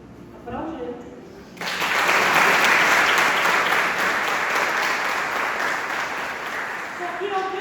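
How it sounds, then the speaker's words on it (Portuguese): After a brief spoken line, a church congregation bursts into loud, sustained applause at a Sunday service, the dense clapping swelling suddenly and holding steady, with faint voices and cheering mixed in. "Aplaude ele."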